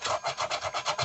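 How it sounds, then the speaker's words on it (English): Sandpaper rubs back and forth on a Najade freediving fin being trimmed, a close, rhythmic scratchy rasp in about five even strokes. "Sandpaper."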